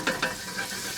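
Butter melting in a pan of hot olive oil for a roux, giving a soft continuous sizzle with two quick scraping stirs near the start, close and fairly quiet, with no talking.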